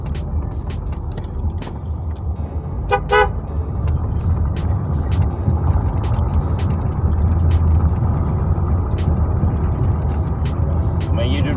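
Car driving through two-way-lane traffic, a steady loud road and engine rumble with repeated nearby horn toots and an air-brake hiss, other vehicles passing close.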